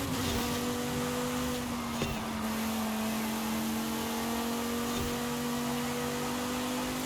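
A drift-tuned car in Forza Horizon 5 holds a steady, sustained engine note under throttle, a constant mid-pitched drone with only slight shifts and no talking.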